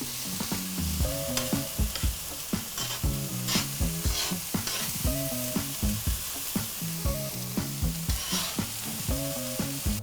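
Onions fry over fairly high heat in a pan, sizzling steadily under repeated scraping stirs that land in an uneven rhythm, close and clear, with no talking.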